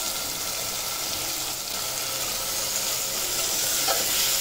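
Bottle gourd sautéing in oil with a garlic, coconut and ginger paste, giving a steady close sizzle and frying hiss throughout with soft stirring, no voices.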